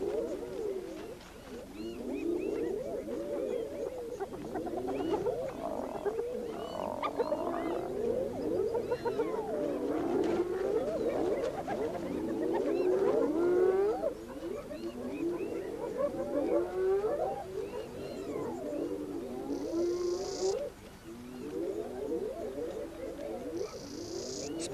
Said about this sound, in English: They intimidate each other with their eerie battle cries.